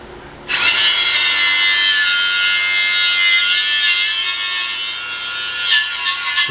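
A wire wheel on a power tool scrubs steadily against car wheels for a 1959 Chevy restoration. It gives a loud, continuous abrasive whine close by, with no voices.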